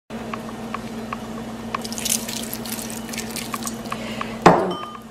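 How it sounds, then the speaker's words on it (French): Half a glass of water goes into a pan of potato and cauliflower masala, with scattered drips and small clinks, then a short louder splash near the end, close by and with no talking. "je vais également ajouter un demi-verre d'eau"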